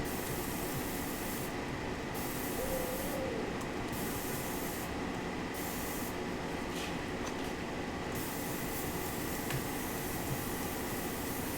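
Airbrush spraying paint in a steady, faint hiss with a few short pauses, with no talking.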